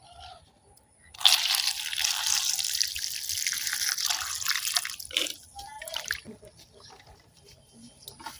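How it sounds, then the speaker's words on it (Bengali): Raw jujubes being washed by hand in water, with a steady close splashing and trickling that runs for several seconds, then thins to a few scattered drips and sloshes. "আমি কিন্তু হাত দিয়ে সবকিছু খুব ভালোভাবে ধুয়ে নিতেছি।"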